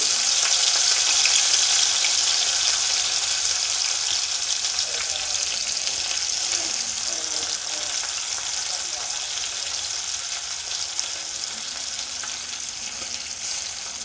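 Small dry prawns frying over a low flame in oil in a pan, a steady close crackling sizzle that carries on throughout without any talk.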